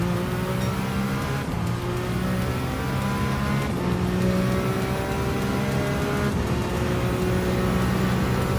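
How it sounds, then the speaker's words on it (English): A race car engine in Gran Turismo 7 drones continuously at high revs with a whine at the top end, loud and steady with gear changes and no voices. "This has got a little bit of a whine in the top end."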